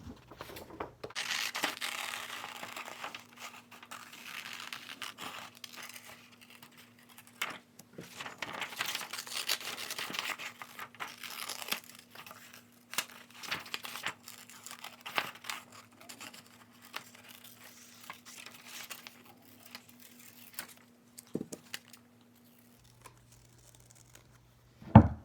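Scissors cutting paper shapes along drawn lines, a series of soft, intermittent snips and crinkles close by, with quiet gaps and paper rustling between cuts and a faint steady hum underneath.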